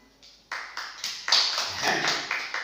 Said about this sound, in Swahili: Tumpe makofi